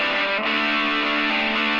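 Electric guitar processed with saturation, two compressors including a fast fat one, and a limiter, playing a steady, thick, sustained distorted tone alone at close, even loudness.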